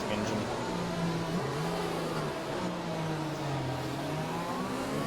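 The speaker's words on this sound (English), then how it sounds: "Undernor's engine's going wild." A race car engine in an Xbox racing game held at a constant high revving whine with a wavering pitch, running loud and continuous from start to end.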